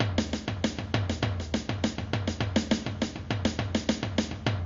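A steady run of quick drum strokes plays a paradiddle, alternating between two different surfaces in a tight, even sticking pattern, played alone at moderate volume.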